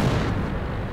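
A single heavy, close tank cannon blast from World of Tanks, a broad booming burst that rolls off quickly.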